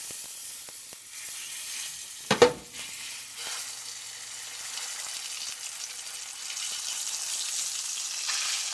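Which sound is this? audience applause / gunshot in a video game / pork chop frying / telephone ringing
pork chop frying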